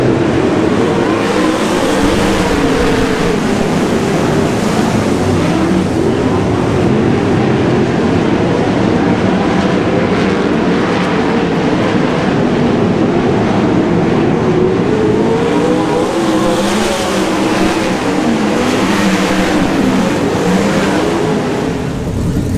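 Race cars, among them the 88M, roar around the track at Baypark in the first heat race of the season opener, a loud continuous engine din with revs rising and falling as the pack passes.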